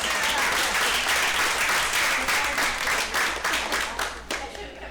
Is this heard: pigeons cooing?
no